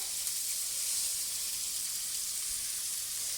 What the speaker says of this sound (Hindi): अब मैं डालूंगी कटी हुई शिमला मिर्चें।